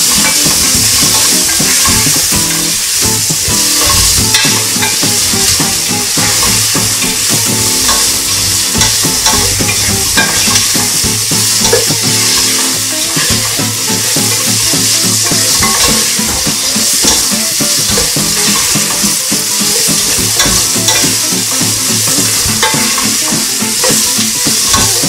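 Pork sautéing with onion and ginger in a pan, a loud steady sizzle and frying hiss with frequent stirring scrapes throughout, close and continuous with no talking.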